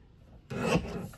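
A strip of card paper is trimmed during a card-making workshop, a single short, close rasping slice that starts abruptly after a quiet moment and carries on for about half a second.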